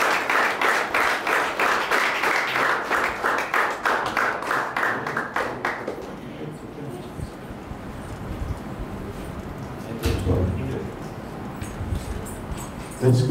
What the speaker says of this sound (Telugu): అందరూ కూడా లేచి నిలిచారు, చప్పట్లు కొడుతూ దేవునికి మణిమకరంగా చప్పట్లు కొడుతూ.